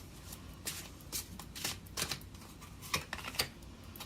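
Tarot cards being shuffled and drawn, giving a run of soft, papery riffling flicks and snaps in irregular bursts, close up and fairly quiet, with no talking.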